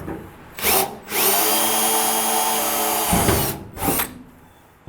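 A power drill with a 1/8 inch bit whirs loudly and close, bores steadily through a bolt for a few seconds on a 1946 Ford Convertible, with short revving bursts before and after.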